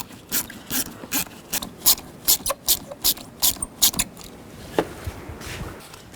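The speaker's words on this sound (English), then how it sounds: "Now loosen up these worm clamps on the snorkel. Use a 7mm socket or a straight blade screwdriver." A 7mm socket ratchet loosening worm clamps on the air intake snorkel of a 2010-16 Buick LaCrosse, a rhythmic series of close clicking ratchet bursts that slow and fade to light handling noise.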